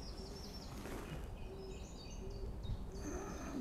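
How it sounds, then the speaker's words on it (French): Small birds chirp and sing in brief high calls from trees around Lac des Minimes in the Bois de Vincennes, a park lake in Paris, over a steady low outdoor hum. "Et on entend aussi tous les autres oiseaux"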